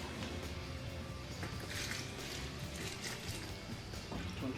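Water is poured into a bucket holding half a bag of self-leveling floor underlayment powder, giving a faint, continuous trickling fill with low splashing close by.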